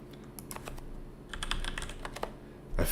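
Keys on a computer keyboard clatter in short quick bursts with brief pauses, close and fairly quiet, ending in a louder thump, with no talking.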